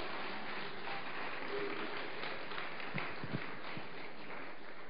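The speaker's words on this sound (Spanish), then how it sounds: "Dele un aplauso al Rey." Church congregation applauding for the King: a dense, steady wash of clapping from many hands, fairly distant, running unbroken throughout.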